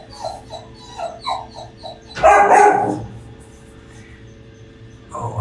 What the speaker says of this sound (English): Oh yeah, she's growling at me.